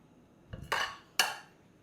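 Sharp cheddar being mixed into egg roll filling in a bowl: two brief scraping, clinking bursts of spoon against the bowl, close and fairly quiet, with no talking.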